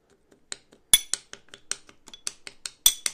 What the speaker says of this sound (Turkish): Aspirinleri yumuşattıktan sonra iyice ezelim.